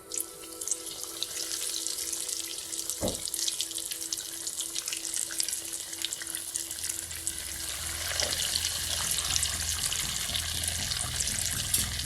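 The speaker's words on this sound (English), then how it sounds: "see how it's floating and it's sizzling there?" A steady, crackling hiss of crumbed porcini mushroom burgers frying in hot oil, continuous and fairly loud throughout, with a brief knock early on.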